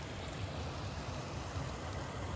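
A small mountain creek runs steadily along the South Fork area, a continuous broadband rush and gurgle of water with no pauses, close and even in level throughout.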